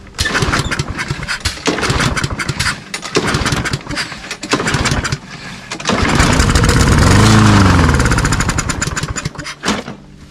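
A Toro lawn mower with a dirty plastic carburetor, primed with starting fluid through the open choke, cranks in repeated pulls, catches and revs loudly for a few seconds, then sputters out and dies.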